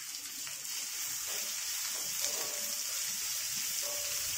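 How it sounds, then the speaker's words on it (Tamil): Chopped small shallots sauté in hot oil in a pan while cooking kothavarangai poriyal, a cluster bean stir-fry, giving a steady soft sizzle and hiss throughout, faint and continuous with no talking. "இந்த சின்ன வெங்காயம் நல்லா பிங்க் கலர்ல பொன்னிறமா வர்ற வரைக்கும் இதை நம்ம வதக்கணும்"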